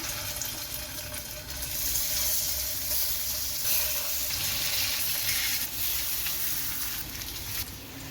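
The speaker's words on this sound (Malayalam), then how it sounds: "ചൂടായ എണ്ണയിലേക്ക് നമുക്കിത് ഓരോന്നായിട്ട് പെറുക്കി വെച്ച് കൊടുക്കാം" Fish roe (meen mutta) frying in hot oil in a pan, a continuous loud hissing sizzle that swells slightly and holds steady throughout, with no talk over it.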